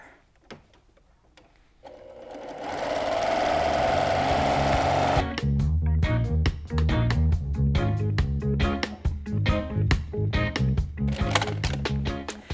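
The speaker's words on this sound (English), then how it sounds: "using your 1/4 inch seam allowance, you're going to stitch that into place to end up with one long strip" A sewing machine runs close by, stitching fabric strips for a reusable snack bag: a steady whirring run, then rapid mechanical clatter of the needle in quick bursts and pauses.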